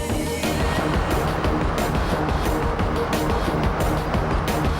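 A turbocharged Nissan 350Z accelerates hard through first and second gear, its engine roaring loud and close with a steady, dense rumble across the whole stretch.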